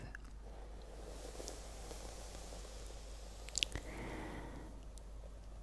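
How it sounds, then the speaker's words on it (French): A hairbrush drawn through long hair extensions in close ASMR style gives a soft, faint, steady swishing with a few brief crackles over quiet background hiss. "que vous puissiez entendre la brosse sur mes cheveux"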